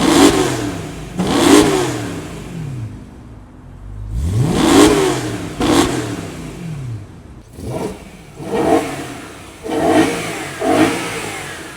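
BMW M3 with a V8 engine revving hard in repeated bursts, each throttle blip climbing sharply then falling back to idle, loud and close, about seven revs spaced unevenly with brief pauses between.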